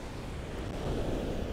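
Storm Ciaran drives sea waves onto the shore in a continuous, loud roar of surf, with wind buffeting the microphone and no pauses between swells.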